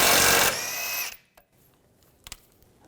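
A power tool with an 18mm socket spins a nut off the rear suspension of a 2006-2010 BMW 550i, one loud whirring burst of about a second, then near silence with a few faint clicks.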